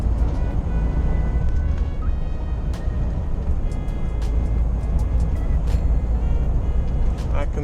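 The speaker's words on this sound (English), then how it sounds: "It's a DAF, a DAF or DAF truck. It's faster than me." A DAF lorry draws past on a motorway, heard from inside another HGV cab as a constant low engine and road rumble with clicks and rattles, someone talking over it.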